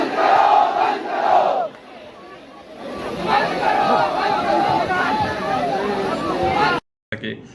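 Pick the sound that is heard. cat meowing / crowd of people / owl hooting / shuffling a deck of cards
crowd of people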